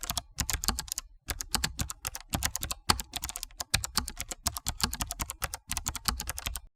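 Fingers type code on a computer keyboard in quick, uneven bursts of crisp key clicks separated by brief pauses, close-up and alone.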